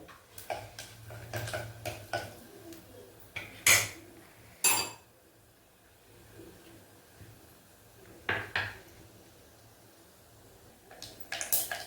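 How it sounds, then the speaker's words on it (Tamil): Mustard and fenugreek seeds splutter in hot oil for a pepper-garlic kuzhambu, producing scattered sharp pops and crackles, a few loud close bursts between quieter stretches. "கடுகு நல்லா பொரிய ஆரம்பிச்சிச்சு"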